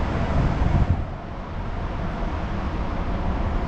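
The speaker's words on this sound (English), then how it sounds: "it is quite windy." A dense, steady roar of wind buffeting the microphone aboard the cruise ship Norwegian Getaway at Nassau, loud and continuous with a slight dip partway through, with no voices.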